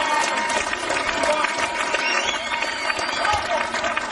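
Crowd cheering and applauding a strongman competitor at a World's Strongest Man qualifying event in Sweden, a dense, steady wash of clapping and shouting throughout, with voices mixed in.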